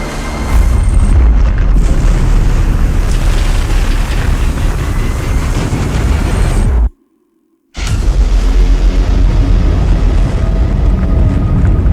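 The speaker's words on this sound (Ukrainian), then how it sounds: "потужний підземний ядерний вибух." A deep, continuous explosive rumble from a powerful underground nuclear explosion roars for several seconds, broken by a brief dead-silent gap before the heavy roar resumes.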